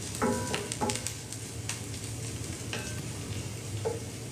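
Chopped onions for a vegan taco filling sizzle in a pan, a steady soft frying hiss broken by several scraping stirs of a spatula.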